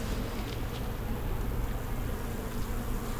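Dense, steady hum of honeybees packed into a full hive brood box, a continuous close drone with no gaps and no talking.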